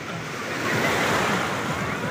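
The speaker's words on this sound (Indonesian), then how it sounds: "Awas ombak." Ocean surf washing onto the sand at Air Manis beach near Teluk Bayur harbour. The roar is loud and continuous, swells toward the middle, and carries wind buffeting the microphone.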